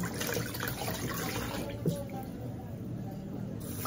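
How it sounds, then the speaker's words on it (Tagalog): Water runs steadily from a tap while fish are washed in a kitchen, a constant close splashing stream with faint handling noises throughout. "bali pangatlong hugas na to na isda"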